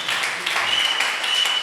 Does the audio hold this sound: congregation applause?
yes